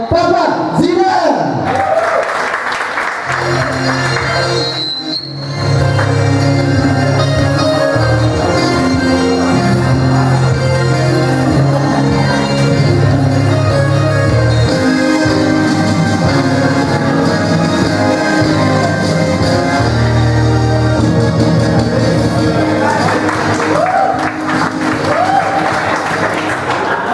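Audience applause for the performer at a live stand-up comedy show, steady crowd clapping that runs for most of the stretch alongside music and spoken voices, with a brief dip near the start.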